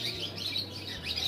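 Pigeons in a pigeon shop, giving faint high chirps and tweets over a low steady hum of the room, with no voices.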